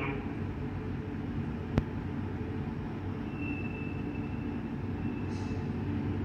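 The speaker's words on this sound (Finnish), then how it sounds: "Varukkaa ohittavaa junaa raiteella 4." A freight train passes on track 4 between Kouvola marshalling yard and Aittaluoto, a steady low rumble and rolling wheel noise throughout, with one sharp click partway and a faint whine later.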